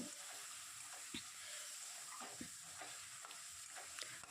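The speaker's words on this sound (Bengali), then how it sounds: "আলু ভাজা হয়ে গেছে এবার মশলাটা দিয়ে এবার বেশ ভালো করে একটু কষিয়ে নেবো" Potatoes and spice paste are stir-fried in a pan, giving a quiet, soft sizzle broken by scattered scraping strokes of a spatula against the metal.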